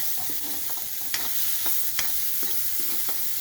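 Finely chopped onion fries with curry leaves in a pan, a steady sizzle with sharp crackles and pops and some stirring scrapes, heard close with no one talking.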